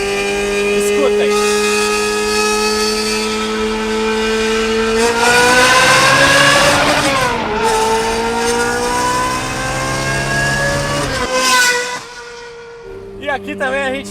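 A Ferrari 360 fitted with a Secret Weapon exhaust revs hard inside a tunnel, its high-pitched wail climbing and falling through repeated throttle blips, loud and echoing, before cutting to a brief idle.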